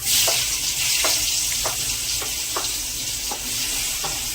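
Onions sizzle loudly in hot oil with cumin seeds and asafoetida, a steady bright frying hiss broken by regular spatula stirs roughly every half second.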